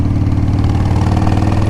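A 2000 Harley Davidson Sportster 1200 motorcycle engine idles close by with the choke pulled, a loud, steady low-pitched throb with an even loping pulse and no talk over it.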